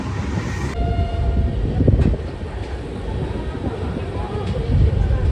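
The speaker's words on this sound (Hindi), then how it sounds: "तो भाई हमारी ट्रेन जो है वो बहुत ही स्लो रफ्तार में अलीगढ़ जंक्शन को स्किप कर रही है।" New Delhi Howrah Duronto Express rolling slowly through Aligarh Junction, a loud close continuous rumble of train wheels on track with faint clicking and squeals, heard from onboard.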